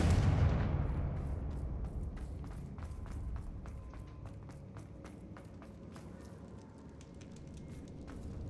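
A Confringo fire spell blast in the video game Hogwarts Legacy: a heavy burst hits at the start and fades into a long rumbling tail, while light rhythmic footsteps patter on afterward.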